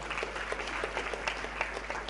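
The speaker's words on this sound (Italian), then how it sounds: "faremo un applauso adesso ai nostri tecnici perché lavoreranno anche domani di domenica, vi prego di applaudire" Brief, steady applause from an audience clapping for the event's technicians, a dense crowd of hands with no voices.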